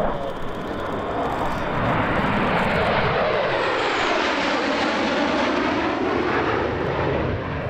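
US Air Force Thunderbirds jets in Diamond formation sweep past at an airshow, a loud continuous roar that swells and fades with a broad rushing tone, no voices over it.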